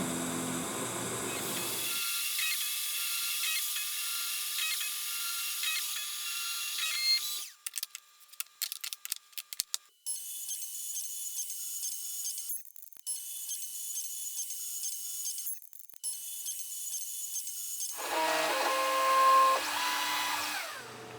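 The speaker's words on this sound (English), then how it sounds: "I've programmed it to run a spiral path through the aluminum till it reaches the birch, then plunge a simple 1/8 inch pilot hole" A CNC spindle mills a spiral path through aluminum down into birch, then plunges a 1/8 inch pilot hole: a steady high whine that drops away, with bursts of chattering cuts and a sustained machining tone, no talk.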